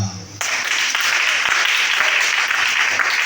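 Church congregation applauding during a Sunday worship service in Libreville, Gabon: steady, dense clapping starts abruptly after a brief quiet moment and holds evenly throughout, with faint voices underneath.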